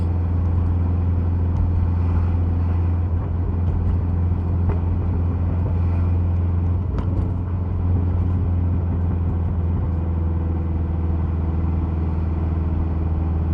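Subaru Forester STI with a big turbo tune coasting downhill in gear, a loud steady engine drone and road rumble with no break, heard from inside the car.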